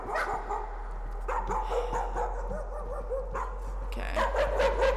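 A dog barks repeatedly in the horror video game Layers of Fear, a steady series of sharp barks and yips over a low background hum, moderately loud with no speech.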